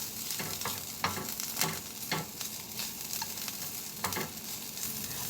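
Potatoes and zucchini fry in a pan with a steady, close sizzle, broken by several louder crackling bursts and stirring scrapes across the whole stretch.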